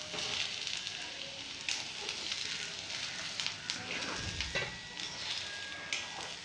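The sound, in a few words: sautéing potato and onion poriyal in a pan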